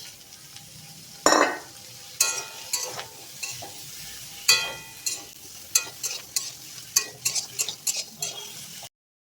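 Ridge gourd fries in spiced oil with a soft sizzle while a spatula stirs it, giving repeated sharp scrapes and clinks against the pan in an uneven rhythm.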